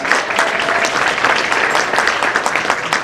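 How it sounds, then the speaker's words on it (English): A crowd at an awards ceremony claps loudly and steadily, a close, dense patter of many hands sustained across the whole stretch. "another round of applause"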